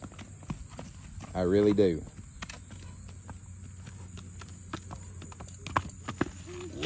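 Hooves of a 15-year-old quarter horse mare, 15 hands tall, clip-clop on a road in a series of sharp, irregular strikes, with someone speaking briefly over a steady background hum.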